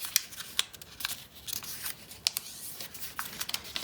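Paper for an origami egg cup is creased and folded by hand in close, quiet crinkles and sharp little snaps, scattered irregularly with no talking.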